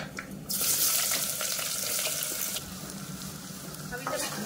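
Onions hit hot oil already holding whole spices for a chicken curry, setting off a sudden loud hissing sizzle that holds steady and then eases slightly.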